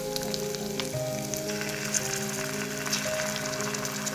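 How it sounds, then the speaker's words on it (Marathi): Onion and ginger-garlic paste fry in hot oil for a chickpea chole masala, giving a steady close sizzle with faint crackles under a low continuous tone, and no voices. "आज मी घालते आहे आलं लसूण पेस्ट।"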